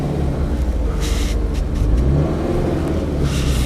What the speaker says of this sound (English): too much revs